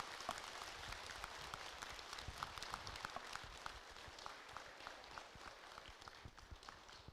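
A Buddhist temple congregation applauds in thanks after a dharma talk, giving a soft, distant, sustained patter of many hands clapping at fairly low volume.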